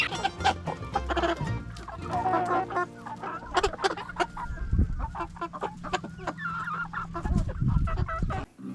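Red naked-neck pullets, skittish young hens, cluck and squawk steadily up close, with overlapping calls and sharp honking notes from the flock throughout.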